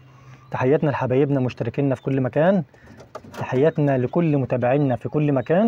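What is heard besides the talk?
pigeons cooing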